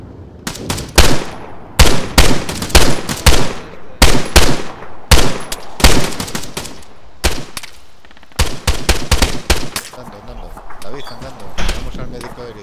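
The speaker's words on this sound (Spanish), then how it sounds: "Disparos a la derecha." Repeated bursts of loud gunfire in Arma III crack in rapid clusters, close and sharp, with brief pauses between volleys and no talking.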